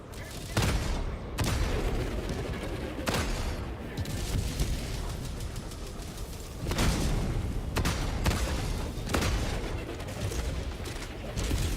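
Autocannon sentries in Helldivers 2 thumping out heavy, spaced shots and booms over continuous battle noise, with a player talking at times.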